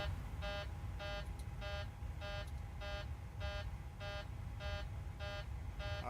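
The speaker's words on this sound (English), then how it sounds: "that alarm will go away here in just a minute" A flight simulator cockpit alarm on a flight from KABQ to KPHX repeats as evenly spaced electronic beeps about every half second, steady and fairly quiet over a low background hum.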